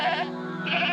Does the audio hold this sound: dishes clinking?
no